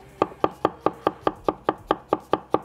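A knife chopping Thai red chilies and garlic on a board, about eleven evenly spaced crisp thuds in a steady, quick rhythm, close and clear with no talking.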